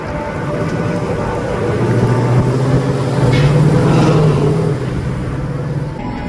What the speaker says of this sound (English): Did you know in Miami they have an above ground subway?